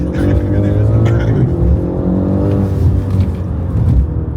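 A car engine hums and rumbles steadily from inside the cabin while driving, with a loud continuous low drone throughout.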